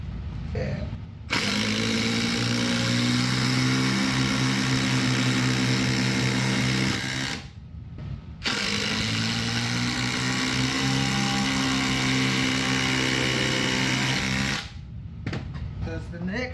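A Makita BL and a DeWalt Max impact driver run in a head-to-head test, producing two long, loud, steady motor whines separated by a brief pause, followed by a few short clicks.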